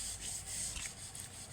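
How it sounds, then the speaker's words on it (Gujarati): A spoon scraping and rubbing through bottle gourd raita as chili is mixed in, a soft, steady, close scraping for a brief moment. "હવે મિક્સ કરી નાખીએ."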